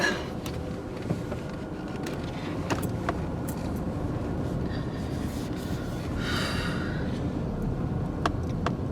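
A car drives slowly around a residential block in Pomona, California, heard from inside. A steady low road and engine rumble continues throughout, with a few small clicks and rattles from the cabin.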